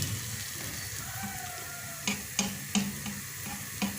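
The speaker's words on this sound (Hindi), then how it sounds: "मक्खन इसमें पिघल जाए तो एक दफ़ा सारे चिकन को हिला लेंगे" Chicken tikka boti being stirred in melted butter in a pan: a soft, close sizzle runs throughout while a spoon scrapes and clacks against the pan in several distinct strokes during the second half.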